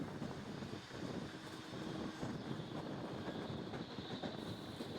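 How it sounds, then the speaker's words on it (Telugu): A train runs through a tunnel on a passenger rail journey, giving a steady, dense rumbling roar that fills the whole stretch at an even loudness, with no clear voices. "ఇట్లా గుహలో నుంచి ట్రైన్ వెళ్ళడం మీరు ఎప్పుడైనా ఎక్స్పీరియన్స్ చేశారేమో"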